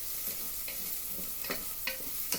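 Onions browning in a pan sizzle softly and continuously, broken by several sharp scrapes and clicks from stirring, fairly quiet and with no one talking.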